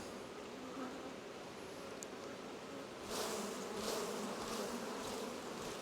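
Close, steady buzzing of many honey bees on a hive frame, swelling louder partway through, with no voices.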